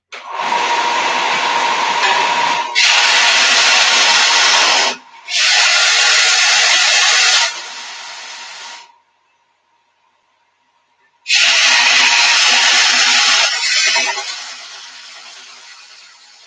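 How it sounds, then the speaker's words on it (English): A part for a camper base is sanded in a garage, with loud, steady, harsh passes in several long bursts, a near-silent gap, then a final pass that fades out. "I'll just sand it a little bit."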